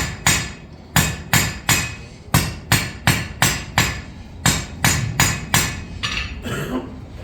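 A blacksmith hammers hot steel on an anvil while forging a Dutch oven lid lifter, giving sharp, ringing metallic strikes in a steady rhythm of roughly two per second, close and loud, with brief pauses between groups.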